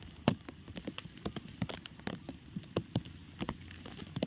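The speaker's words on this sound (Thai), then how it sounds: "ฝนเริ่มตกแล้ว" Rain begins to fall on a farm where cattle and buffalo are raised: scattered, sharp drops tap irregularly and close by over a quiet background hiss, with no talking.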